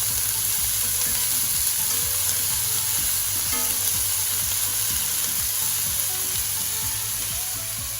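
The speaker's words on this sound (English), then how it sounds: "just let that sizzle away there, that's beautiful" Goat meat for a Jamaican-style curry sears in a hot pan, a steady close sizzle and frying crackle running throughout with occasional stirring scrapes.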